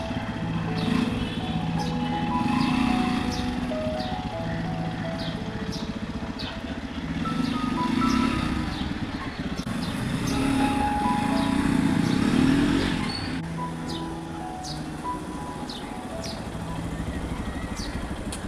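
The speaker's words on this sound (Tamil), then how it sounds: "இப்போ வண்டியை ட்ரைவ் பண்ணி பார்க்க போகிறோம்." A Yamaha FZ S version 3 motorcycle ridden after a swing arm bush change, its engine droning steadily with rising and falling revs amid road noise and faint passing traffic.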